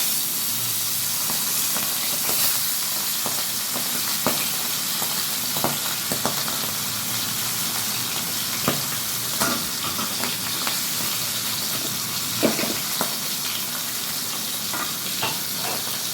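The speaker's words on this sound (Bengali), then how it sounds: "যেহেতু ট্যাংরা মাছ একটু ফাটতে পারে, তাই জন্য তেল ছিটে আসার ভয় থাকে" Tangra catfish frying in hot oil, a steady broadband sizzle with scattered sharp pops and crackles of spattering oil throughout, close and fairly loud, with no voices.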